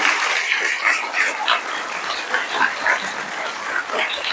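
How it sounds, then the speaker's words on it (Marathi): Enthusiastic applause for parents at a birthday celebration, continuous crowd clapping throughout, fairly loud and close. "तर आता एकदा जोरदार टाळ्या"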